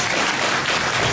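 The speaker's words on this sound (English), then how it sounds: "Can we give her a round of applause?" An audience claps together at a charity dinner held at the annual meeting of the Australian Women's Union Association, a loud, dense burst of applause filling the room, with no talking.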